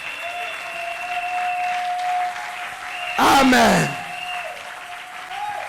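Church congregation at a prayer retreat breaking into a short burst of loud clapping that swells and fades within about a second, with a voice heard before it and a sustained tone ringing under it.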